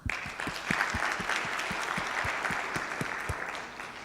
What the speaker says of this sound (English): I think we should give all 4 speakers a round of applause.